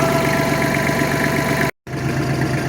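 A tractor engine idles close by with a steady, loud, throbbing mechanical drone, briefly cut to silence for a moment before resuming.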